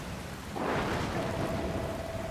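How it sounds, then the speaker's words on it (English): A thunderstorm in the video game Dragon Quest Builders 2 rolls in with a deep rumble of thunder over a constant wash of rain, with a sustained tone from the game in the background. "Oh, it's the storming."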